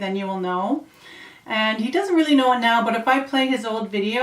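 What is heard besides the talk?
None of the usual background noises is heard.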